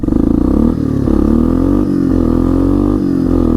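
A 1998 Yamaha Big Bear 350 4x4 ATV engine pulls away in first gear on a road, its loud, close engine note rising in pitch, with brief dips between rising surges.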